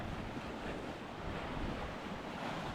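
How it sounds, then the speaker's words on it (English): Waves washing on the shore of a cold sea, heard as a steady, fairly faint rush of surf mixed with wind buffeting the microphone, with no voices. "I'm just gonna wait for the waves to come down."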